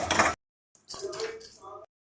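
Fried soybeans scooped out of a pan, giving two short bursts of metallic clinking and scraping from a utensil against the cookware, separated by a brief pause.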